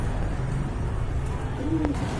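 A pigeon coos once, soft and low, over a constant background hum; no talking.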